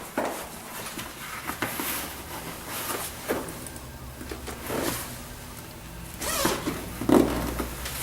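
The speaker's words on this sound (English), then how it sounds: "And then the inner zipper." The inner zipper of a Human Touch Gravis massage chair backrest is worked open in several short, close zipping strokes spaced a second or so apart. Faint rustles of fabric fall between the strokes, and no one speaks.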